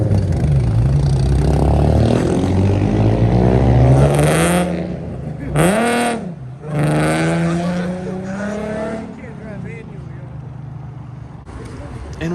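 At a Long Island car meet, an impounded car is driven off by police, its engine revving and rising in pitch with loud tire noise before fading away. Nearby voices are heard over the passing car.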